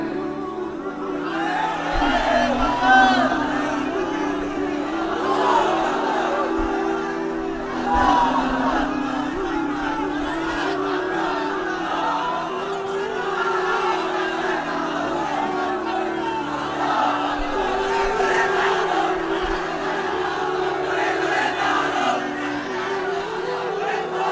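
A large crowd at a religious sermon chants slogans in unison, with a loud, roaring collective voice rising and falling in repeated waves and continuous crowd noise underneath.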